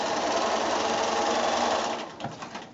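A sewing machine runs in a loud, steady whir while joining pieces of a Road to Oklahoma quilt block made from 2½-inch squares, slowing and trailing off toward the end.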